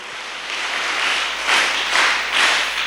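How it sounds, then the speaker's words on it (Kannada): An audience at a storytelling talk breaks into applause, a broad, dense wash of many hands clapping that swells and surges in waves for a few seconds, fairly loud and close. "ಚಪ್ಪಾಳೆ ಹೊಡೀರಿ ಎಲ್ಲರೂ"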